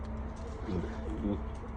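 A homing pigeon arrives at a loft, giving soft low coos twice over faint background noise, near and quiet.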